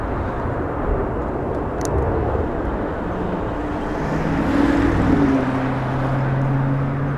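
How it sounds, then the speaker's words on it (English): A Delta Airlines Airbus A321 departs LAX for Atlanta, its jet engines giving a loud, steady broadband roar that swells slightly as it rolls, heard from the airport with no talking. "up for departure is the Delta Airlines heading to Atlanta, flight 591. It's an A321."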